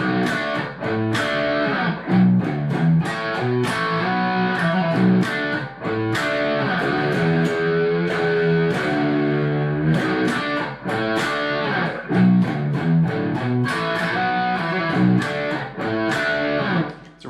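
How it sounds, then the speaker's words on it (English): Distorted electric guitar in drop B tuning plays a heavy riff, with thick low chugs and repeated phrases running continuously and loud. "Right there you can hear we're in drop B"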